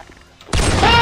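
A grenade goes off in the video game Garry's Mod, a sudden loud blast that cuts in abruptly after a quiet moment and roars on with a broad, sustained rumble.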